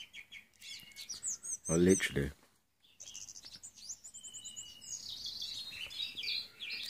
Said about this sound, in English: The birds are fucking going for it this morning